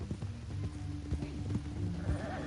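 Horse hooves clip-clop steadily at a walking pace in Red Dead Redemption 2, close and continuous, with a faint whinny-like tone near the end.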